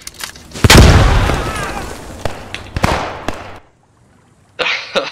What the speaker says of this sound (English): Fucking grenade, run!